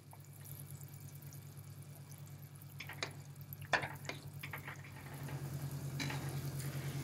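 Salted water with a little oil boils in a pot for pasta. A faint, steady bubbling simmer runs throughout, with a few soft clinks and splashes and no talk.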